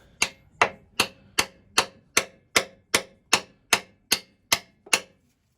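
A hammer strikes a metal part of a 1920 Lister Q Type engine's crankshaft assembly twelve times in a steady, even rhythm, each blow sharp and ringing briefly, loud and close with no talking.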